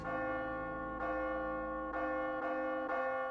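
A large church bell tolls in a movie soundtrack, four resonant strikes spaced about a second apart, each ringing on into the next.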